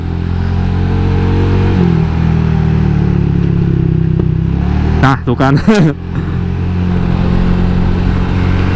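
Replacement motorcycle engine revving with irregular popping bursts near the middle, running steadily before and after, with someone talking over it.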